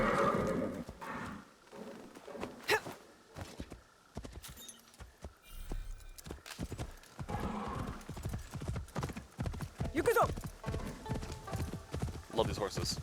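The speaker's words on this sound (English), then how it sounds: "Love these horses." Horses in the Assassin's Creed Shadows video game clop along with steady, rapid hoofbeats, and loud whinnies break out near the middle and the end, while a person talks over the game sounds.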